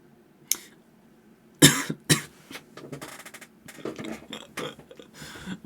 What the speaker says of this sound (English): I got embarrassed and then I coughed